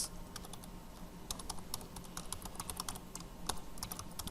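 Quiet typing on a computer keyboard while writing Java code, a fast irregular patter of light key clicks with brief pauses, close but faint.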